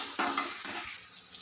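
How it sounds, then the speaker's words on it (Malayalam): Sliced onions sautéing in a hot pan with oil, a steady sizzle broken by a few sharp scrapes of a spoon stirring against the metal, close and clear with no talk. "സവാള ഇട്ടിട്ട് വഴറ്റാം. സവാള വറ്റി എന്നിട്ട് സവാള ഇങ്ങനെ വഴറ്റിക്കൊണ്ടിരിക്കുക."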